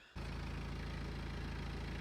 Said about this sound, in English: I really don't like the sort of ticking that it makes on tickover